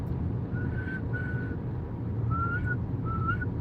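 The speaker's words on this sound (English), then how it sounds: "Can you whistle for me?" A single person whistles a few short, wavering notes in two pairs, thin and breathy, over a steady low background rumble with no talking.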